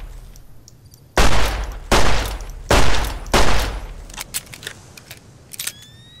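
Rifle fire from a Fallout New Vegas weapons mod, a rifle with a pistol built into it: four loud, sharp shots in quick succession, followed by quieter mechanical clicks and handling noises.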